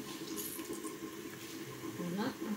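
Soaked bread being wrung out by hand over a sink, releasing a steady trickle and splash of water with a louder gush near the end, close and continuous, as part of a home Algerian sfiriya recipe.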